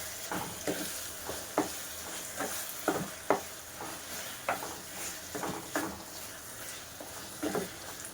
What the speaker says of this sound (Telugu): బీట్రూట్ అయితే వేసేసుకుంటున్నాను.